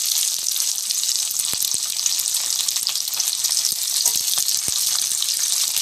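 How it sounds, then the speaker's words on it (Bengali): Cubed onions fry in a hot pan for hotel-style chilli chicken, a steady close sizzle with scattered crackles and light stirring throughout, no talking. "কিউব করে রাখা পেঁয়াজগুলো দেওয়া হচ্ছে।"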